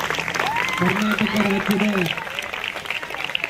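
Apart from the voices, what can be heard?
loud audience applause at a book release event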